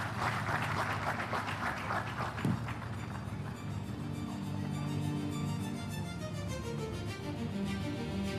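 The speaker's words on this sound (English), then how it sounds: "Let's welcome him with a round of applause." Applause welcoming a speaker at the 2026 Kwahu Business Forum: a dense, steady clapping wash from a large audience that fills the opening seconds, then carries on as sustained tones rise underneath.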